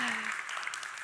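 Audience at the IFA 2024 Innovation Stage clapping, a dense burst of applause from a crowd that stays fairly even and begins to taper off near the end.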